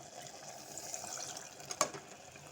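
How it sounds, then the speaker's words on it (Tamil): Ground masala water poured over mutton in a pressure cooker for mutton varuval, a soft steady liquid pour that ends with a small splash near the end, close and quiet, with no talk. "இந்த மசாலா தண்ணியெல்லாம் அதையும் சேர்த்துடலாம்"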